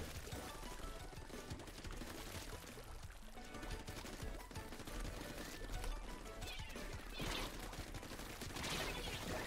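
Sploosh-o-matic fire in a Splatoon 3 online Splatfest match, a busy wash of wet splattering bursts and liquid spurts amid loud game noise, with no clear separate shots.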